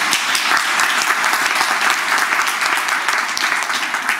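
Sustained applause from a conference audience honouring a photographer's exhibition: dense, loud, evenly spread clapping from many hands that carries through without pause.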